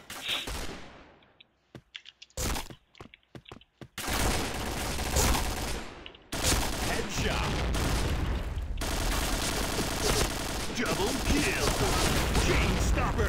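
Rapid rifle bursts from an AUG in the shooter game Point Blank, sharp cracks in quick clusters, sparse at first and then dense, sustained loud firing, with brief talk in between.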